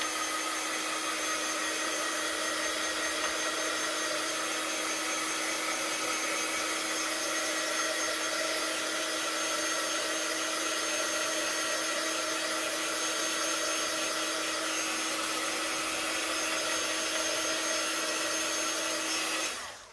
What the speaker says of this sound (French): je vais juste passer un petit coup pour sécher tout,